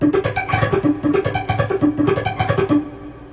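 An electric guitar is picked rapidly in a steady, evenly spaced run of clearly separated, distinct notes, played close and alone with no voices.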